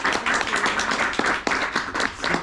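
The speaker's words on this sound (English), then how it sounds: "please let's just give a big clap" A small group claps steadily, sharp overlapping hand claps at a brisk, uneven rhythm, close and moderately loud.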